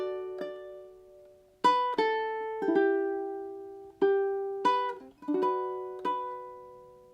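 Ukulele picking out the opening line of a song, a slow melody of single plucked notes and soft strums with gaps between phrases, heard close and alone.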